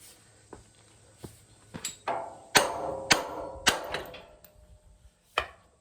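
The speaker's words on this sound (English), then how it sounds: "I'm just going to pickle fork them and blast them out" A pickle fork is hammered to split old ball joints off a spindle during Jaguar independent front suspension disassembly, giving a series of sharp metallic strikes, irregular and close, growing louder midway, then a final blow.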